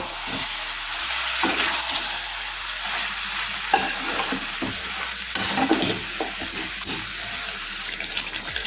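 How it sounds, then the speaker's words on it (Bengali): Chicken pieces mixed with salt in a frying pan over a lowered gas flame, for coriander (dhaniya) chicken: steady sizzling with repeated scraping stirs of a spatula across the pan, close and fairly loud, no talking. "লবণ চিকেনের সাথে ভালোভাবে মিশিয়ে নিয়েছি।"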